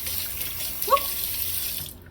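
Hot water runs steadily from a kitchen tap into a sink, a continuous hiss with a brief splash near the middle before it cuts off at the end.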